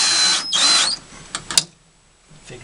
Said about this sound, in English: You're going to want to at least put 2 screws in.